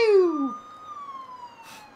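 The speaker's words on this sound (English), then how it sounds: "I have this police siren app." A short electronic siren tone from a police siren phone app sweeps downward once, then a thinner wailing tone lingers faintly, with a brief hiss near the end, in the game Persona 4.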